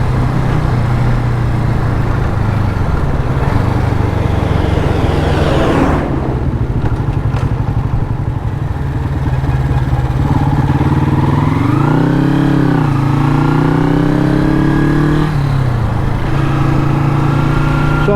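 Honda's latest super sport motorcycle being ridden, its engine droning loudly and close, with a throttle roll-off and dip near the middle before revving back up through rising gear pulls.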